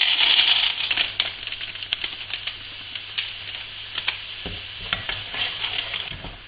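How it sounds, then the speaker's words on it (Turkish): Almonds stirred in boiling sugar water in a pot for candied almonds: a close, steady bubbling hiss with quick clicks and scrapes of the spoon working through the nuts, no voices. "Evet suyum kaynamaya başladı. Hemen bademleri ekliyorum."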